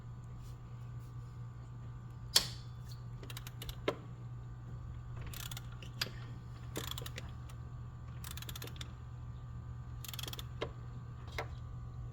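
Bolts on a Mazda CX-7 power steering pump are cracked loose with a hand tool. Sparse, sharp ratcheting clicks and metallic ticks come at irregular intervals over a faint, steady background hum.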